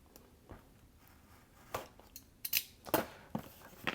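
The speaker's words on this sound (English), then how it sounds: "I'm gonna cut open the seal right now" Seal on an LG V40 phone box being cut open, a few short snips and scrapes close by at irregular intervals, quiet between them, with the louder cuts bunched toward the end.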